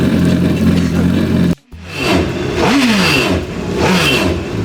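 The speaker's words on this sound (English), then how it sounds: "I like to give it a couple revs just to get everything moving through out there and open things up." A jet ski engine revs loudly up close while its cooling system is flushed, rising in two surges with a brief drop in between.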